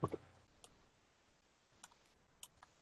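Computer mouse clicks on a screen menu while managing a law firm group, a few sharp isolated clicks spaced out over quiet room tone, close and fairly soft.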